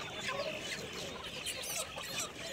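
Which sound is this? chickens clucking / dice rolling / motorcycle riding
chickens clucking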